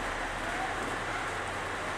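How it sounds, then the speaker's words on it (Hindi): Heavy rain falls steadily as a broad, even hiss without letup, filling the background at moderate level with no distinct individual drops. "बारिश बहुत शानदार हो रही प्यारे बच्चों।"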